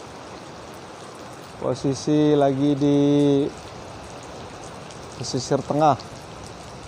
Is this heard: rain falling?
yes